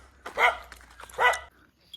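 A dog barks twice, close and fairly loud, with a short pause between the two barks and quiet afterward.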